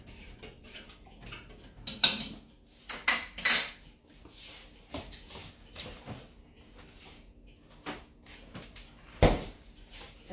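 Meatballs stirred in a pot: irregular spoon clanks and scrapes against metal, a few sharp loud knocks between quieter shuffling, with gaps of near silence and no voices.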